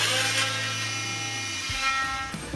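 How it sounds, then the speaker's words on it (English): A wood router whines at high speed while cutting during a sailboat refit, a steady loud harmonic scream with a rough grinding edge, its pitch shifting lower partway through as the bit bites, then continuing without any talk. "We're going to use the router."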